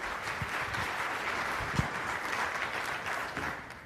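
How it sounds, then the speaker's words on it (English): A crowd at a keynote talk applauding steadily, dense clapping that stays even throughout with a few sharper claps standing out. "Big round of applause for them."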